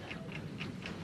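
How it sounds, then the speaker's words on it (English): Steady mechanical ticking of a bomb, four light ticks at an even quick pace, faint and alone with no voices. "Can you hear it ticking?"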